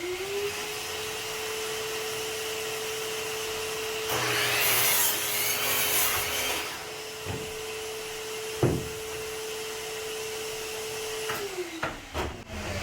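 A power saw whines steadily, then bites into wood for a couple of seconds with a loud rasping burst, followed by a few knocks and clatters.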